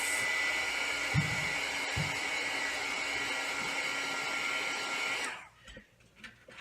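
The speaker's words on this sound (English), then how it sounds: "Then I'm going to take my heat gun and I'm going to set her." A heat gun blows steadily at close range for about five seconds, setting embossing on foil paper for a wand, then cuts off, leaving faint handling noises.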